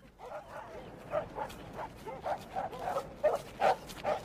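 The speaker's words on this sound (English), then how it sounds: "the gypsies' dogs began to bark the place down" Several camp dogs bark over and over in a steady run of about a dozen sharp barks, at moderate distance and fairly quiet, with no speech over them.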